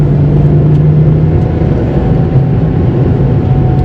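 A Porsche 911 drives off at an outdoor classic car event, its loud, close engine note a steady low rumble throughout with no talk.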